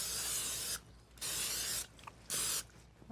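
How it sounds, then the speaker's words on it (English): Two short hissing bursts from a cooking spray can onto a pie dish, each lasting about half a second, close and fairly loud with quiet pauses between. "just give it a little spray"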